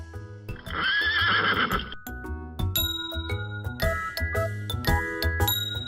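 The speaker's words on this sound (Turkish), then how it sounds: "Oo, bu tek boynuzlu at. Tek boynuzlu atlar." A toy unicorn plays a loud electronic neigh, followed by bright jingling chimes and clip-clop hoofbeats, close and alone with no talk.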